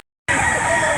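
Roosters at a gamefowl auction market in Lipa, with white hatch birds on display: after a brief silence, a close, loud rooster crow carries on over busy market noise.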